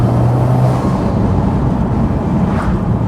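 A Subaru Impreza STi 20th Anniversary JDM car gives a loud, close, raspy engine and exhaust note that holds steady for about three seconds, with a low rumble throughout.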